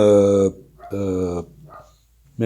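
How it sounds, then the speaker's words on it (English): A dog barks outdoors in loud, strained bursts, two long ones and a shorter closing one with quiet gaps between, heard from a moderate distance. "Looks like my dog found something out there to bark at."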